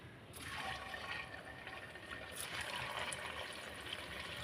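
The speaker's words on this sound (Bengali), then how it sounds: "আর এবার আমি একটা একটা করে দিয়ে ভেজে নেবো" Semolina langcha sweets sizzle in hot white oil in a pan, a steady faint bubbling hiss with brief brighter crackles as pieces drop in.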